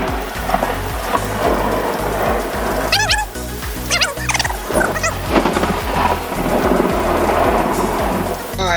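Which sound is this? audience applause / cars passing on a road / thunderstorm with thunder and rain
thunderstorm with thunder and rain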